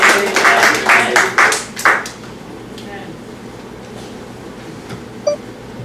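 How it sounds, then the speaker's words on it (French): A church congregation at a Sunday Baptist service bursts into loud applause that fades after about two seconds, leaving a quiet room with a faint beep near the end. "Chers amis, aidez-moi à applaudir le serviteur de Dieu."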